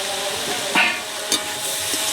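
Prawn curry sizzles in a hot pan while a spatula scrapes and stirs it, giving a steady frying hiss broken by two short, sharper scraping strokes close by.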